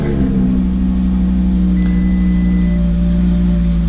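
A 2018 Audi RS3 Quattro's five-cylinder engine fires up with the push-button start, swelling quickly into a loud, steady, close rumbling idle that holds throughout.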